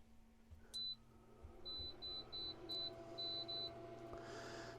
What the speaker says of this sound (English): And I have a timer here set up.